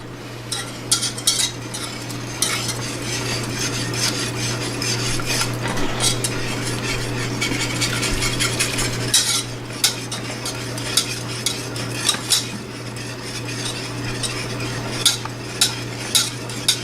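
Alfredo sauce of cheese melted into milk bubbles and spatters in a pan while a utensil stirs and scrapes, with a steady close sizzle and sharp clinks of metal against the pan.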